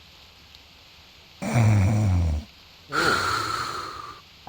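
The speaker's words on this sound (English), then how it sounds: "Apple, you're snoring right in my ear." Two long snoring breaths from a character in the video game Reverse 1999, a deep rattling inhale followed by a higher wheezy exhale, both loud and close with a short pause between them.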